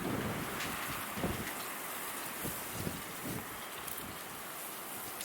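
Strong wind rushes steadily across the mic, a broad roaring hiss with faint patters mixed in, loud and continuous throughout.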